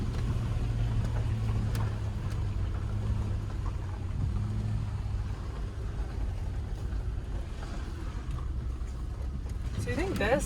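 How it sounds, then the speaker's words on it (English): A Land Rover LR3 driving off-road through mud under throttle, its engine a deep continuous rumble with low drone in the cabin, while people talk over it. "I'm actually pushing on the gas quite a bit."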